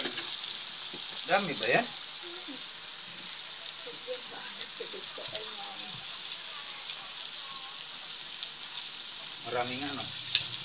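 Steady sizzling of bitter melon (ampalaya) sautéing in a pan with salt, a continuous crackle throughout, with a few short bursts of conversation near the start and end.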